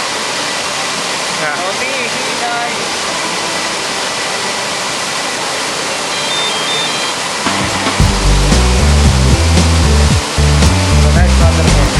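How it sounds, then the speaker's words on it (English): A waterfall in a canyon in Catbalogan City, Samar, gives a steady, close rushing roar. Music comes in partway through and continues over the water, with a brief voice. "So now they're going down to the next waterfall."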